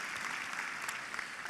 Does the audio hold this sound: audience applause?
yes